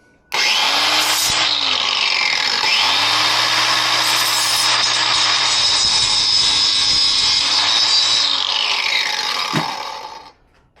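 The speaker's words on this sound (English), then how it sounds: "I'm just going to use my grinder." An angle grinder cuts copper windings out of an electric motor armature, a loud steady whining grind running nearly ten seconds close by before winding down, with no talk.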